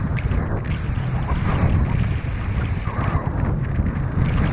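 Strong wind buffeting the microphone at the shore during wing foiling, a loud, steady roar with gusty surges and water noise beneath, no voices.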